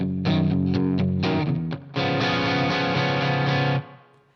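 Electric guitar playing the closing two bars of Bob Seger's Old Time Rock and Roll, a run of short, choppy, slightly overdriven chord stabs giving way to a long sustained chord that cuts off, loud and with no voice.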